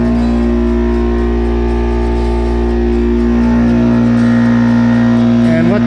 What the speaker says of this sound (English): Okay, so I returned to the compressor.